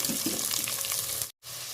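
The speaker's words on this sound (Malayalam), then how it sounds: "ഇതിലേക്ക് നമുക്ക് അരിഞ്ഞു വെച്ചിരിക്കുന്ന ഉള്ളി ഇട്ട് കൊടുക്കാം." Chopped onions fry in hot oil with ginger, green chili and curry leaves, a dense close sizzle with light stirring scrapes, briefly cutting out before resuming.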